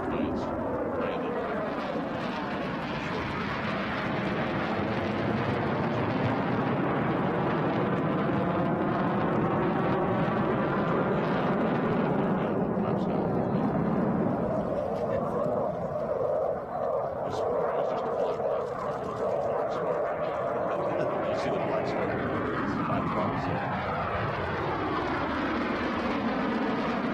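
Four airplanes come in to land in a tight pattern at a Memorial Day air show in South Dakota, their engines droning loudly and continuously with a rising and falling roar as they pass, under crowd and announcer talk.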